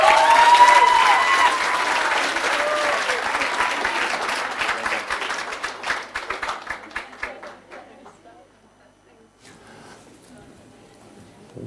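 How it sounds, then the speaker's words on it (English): An audience at an MA graduation ceremony in The Hague gives loud, sustained applause for teachers and staff that thins into sparse claps and fades to near silence, followed by faint background noise. "So a last applause for all of them"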